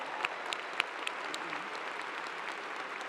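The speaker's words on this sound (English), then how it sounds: "I think you all deserve a great big round of applause." Graduation ceremony audience at Clemson University's fall commencement breaks into steady, dense applause that fills the hall, a broad wash of many hands clapping with a few sharper individual claps standing out, no speech over it.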